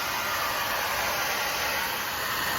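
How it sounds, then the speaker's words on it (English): A blow dryer runs on high while drying wet pottery glaze, giving a steady, loud rushing whoosh with a constant high whine, unbroken from start to end. "I've got a blow dryer, so let's just do it."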